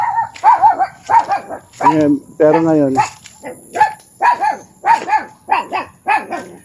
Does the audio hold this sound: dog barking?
yes